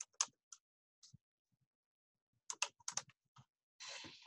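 A computer keyboard typing short text: scattered, crisp keystrokes in small bursts separated by quiet gaps, ending with a brief rush of noise.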